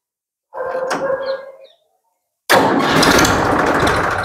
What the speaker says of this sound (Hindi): बहुत ही शानदार आवाज इसकी ट्रैक्टर की है, जबरदस्त।